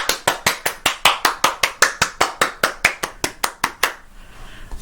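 Hands clap about twenty times in a quick, steady rhythm, each clap sharp and close, then the clapping stops and a faint room tone remains for the last second.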